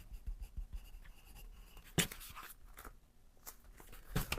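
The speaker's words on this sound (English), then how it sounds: "Get a notebook, pencil, and write down gratitude." A pencil writes in a notebook, scratching in short strokes close by, with a louder rasp midway and scattered scribbles and taps, quiet overall with no voices.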